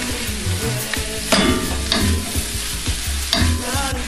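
Sweet pepper and saltfish stirred together in a hot frying pan, with a constant close sizzle and regular utensil scrapes and taps against the pan, loud and without any voices.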